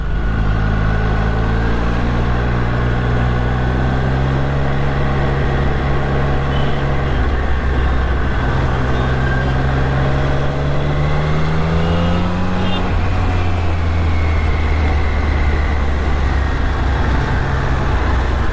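A Triumph Street Triple R motorcycle rides at speed, its engine note rising and falling over steady loud wind and road roar for the whole stretch, with no one speaking.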